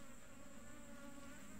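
Steady high droning hum of laywan wild bees swarming at their nest, faint and continuous with no voices over it.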